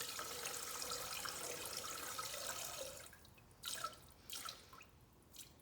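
Water separated from ethanol fuel drains out into a waste bucket, first as a steady, faint splashing stream. It then breaks into a few separate drips and trickles that sound close but quiet.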